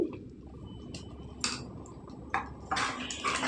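Moong dal and fenugreek leaf curry stirred in a pot, a few scattered clinks and scrapes of a spoon against metal, growing busier toward the end.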